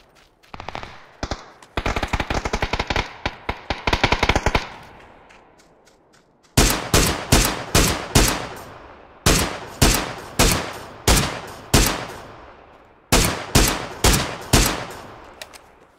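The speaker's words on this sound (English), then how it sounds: "Oh, there's somebody shooting there." Gunfire in the shooter game PLAYERUNKNOWN'S BATTLEGROUNDS: a rapid burst of shots, then a pause, then loud single shots in steady rhythm with echoing tails, close and sharp, no talking.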